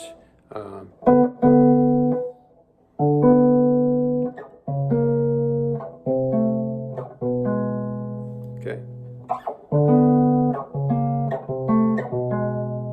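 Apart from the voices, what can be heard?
electric blues guitar chromatic walk-down finger pattern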